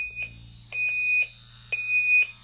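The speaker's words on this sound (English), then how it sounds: "The parent end is flashing and beeping to say that it's detected sound" Geemarc Sentinel 1 video baby monitor parent unit beeping, a designed-for-deaf-parents alarm giving short high electronic tone bursts in three groups, loud and close with no talk.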